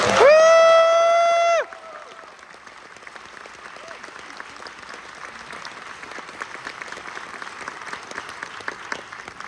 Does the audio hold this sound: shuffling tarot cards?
no